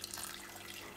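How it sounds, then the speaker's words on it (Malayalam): Water pours softly and steadily into a pot of mixed vegetables with turmeric for a South Indian vegetable kurma before pressure cooking, a faint brief trickle heard alone. "നമുക്ക് കുറച്ച് വെള്ളം ഒഴിച്ചിട്ട്"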